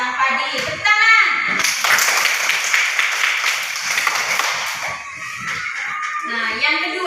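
Schoolchildren clapping their hands in a primary school classroom, a burst of fast clapping in the middle with children's voices calling out before and after.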